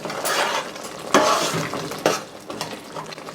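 Tomato pickle with chili powder and salt is stirred in a pan. Scraping utensil strokes come in a few uneven bursts over a low, faint background sizzle, with no talking.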